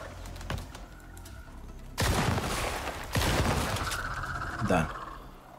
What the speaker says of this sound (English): I'm gonna try my explosive shotgun.